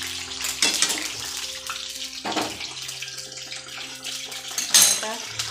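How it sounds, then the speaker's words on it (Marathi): Eggplant frying in a pan on a gas stove, a soft continuous sizzle under clattering pots, utensil clinks and occasional running water. "वांगे तळायला इकडे ठेवते गॅसवर."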